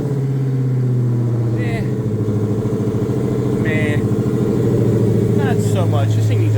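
A vehicle engine called the Gold Rush idles steadily after starting up, a low, even rumble close by with no change in pace, joined by a few faint high chirps.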